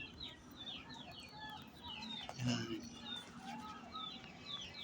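Chickens cluck and chirp steadily nearby, with a soft murmur of voices underneath.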